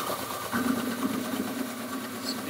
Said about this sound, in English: So now, start shaving here. And you can see this beautiful snow that is coming out.